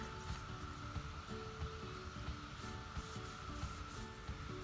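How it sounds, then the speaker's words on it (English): Cloth rubbing lacquer finish across the sides of a wooden piece, a steady soft continuous wiping and swishing with faint rhythmic strokes, fairly quiet and close, no talking. "I'm just wiping the lacquer on the side and then, just trying to wipe as much of that off as I can"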